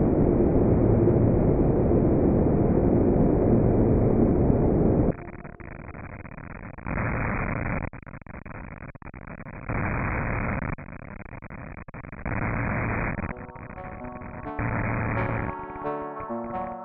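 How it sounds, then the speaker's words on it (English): UVB-76 shortwave radio station picked up live: a dense burst of harsh static gives way to a steady buzzing tone broken by rhythmic bursts of noise at regular intervals, with a brief warbling tonal pattern near the end. "At night, filled with static and numbers inaudible to the human ear, somewhere far away, deep in the ether, it still buzzes"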